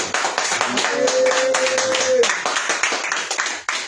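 A church congregation claps together to acclaim the Lord. The clapping is loud, fast and fairly rhythmic, with voices and a sustained sung or shouted note over it, and it continues to the end.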